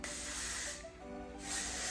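Plant-based hair spray mists from a pump bottle in two short close hisses separated by a brief pause, with no talking.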